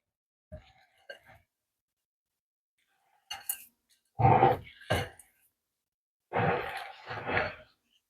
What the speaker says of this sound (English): Okay, let's stir these in.